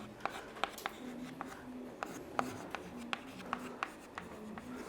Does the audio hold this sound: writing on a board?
yes